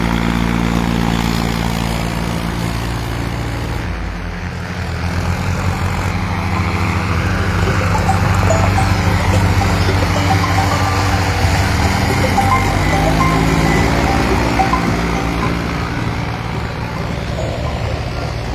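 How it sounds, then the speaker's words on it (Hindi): JCB excavators and tractors run across standing crops in a river floodplain, their engines forming a loud, continuous diesel drone that swells slightly midway, with no speech. "तमाम जो जेसीबी और ट्रैक्टर हैं वो इस समय मौके पर आपको चलते हुए दिखाई दे रहे हैं।"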